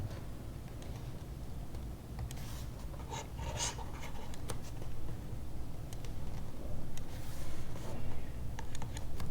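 Pen strokes scratch on a surface in short irregular bursts, close and fairly quiet, as a maths tutor writes out algebra of convergent sequences in a different colour, with a steady low hum underneath.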